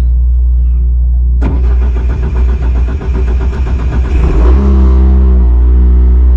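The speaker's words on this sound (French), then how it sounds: "démarrage du bolide" A Renault Clio Rally3 rally car engine cranks and fires at about 1.5 seconds, revving roughly and loudly before settling into a steady, close idle on its own.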